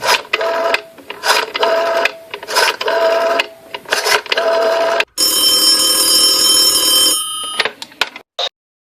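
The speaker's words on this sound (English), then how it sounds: "Ringing the police department." An old-style telephone bell ringing in a radio drama, loud and close, in repeated bursts with short pauses between rings, followed by a long continuous ring.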